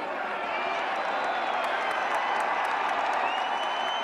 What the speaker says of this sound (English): Love gets a round of applause as he comes off the field